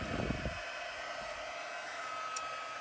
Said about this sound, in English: you'll need a heat tool, and I happen to have this one from Stampin' Up, and I'm just going to let it run for about 30 seconds